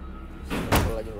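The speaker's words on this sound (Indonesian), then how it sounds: "Ada suara ketukan kaca di sini." Knocking on glass in a room: a dull thud, then a single sharp, louder knock, with a voice talking over it.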